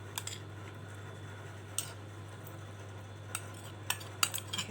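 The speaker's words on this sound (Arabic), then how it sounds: "نبتدي بقى ندوب كل المكونات مع بعض، نقلب كل المكونات بتاعتنا كده" Vegetables and mushrooms are tossed together for a salad, with soft scattered clicks and scrapes of a utensil against a bowl over a low steady hum, sparse and close.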